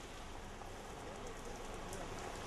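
Incessant heavy rain falling in Davangere, a steady faint hiss of downpour with no talking.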